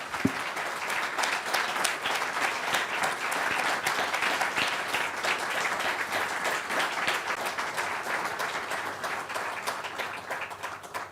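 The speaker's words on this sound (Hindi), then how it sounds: "जो तालियाँ आपने मेरे लिए बजाई हैं, मैं चाहता हूँ कि हम सब मिलकर खुदा बाप, खुदा बेटे और खुदा रूल कुदस के लिए बजाएंगे" Sustained applause from a church congregation fills the whole stretch, steady dense clapping from many hands at an even loudness with no speech over it.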